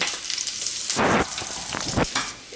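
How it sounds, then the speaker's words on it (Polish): Loud, dense frying hiss and crackle of chickpea patties cooking in a hot pan, continuous throughout with bursts of stronger spattering. "smażymy z jednej i z drugiej strony"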